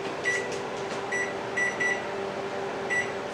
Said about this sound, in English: you may have heard that beep. That's the rice.